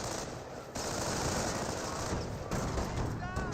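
Dense continuous gunfire from a Company of Heroes battle, with overlapping machine-gun bursts and rifle shots, including a US sniper, forming a loud unbroken roar with faint voices mixed in.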